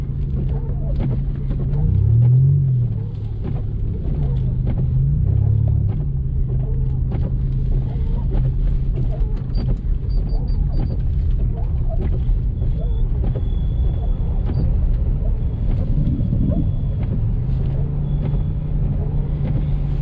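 Supercharged front-wheel-drive Buick car drifting on a thin layer of slippery snow, heard as a steady low engine drone from inside the cabin with a few rising and falling rev swells and faint background rumble.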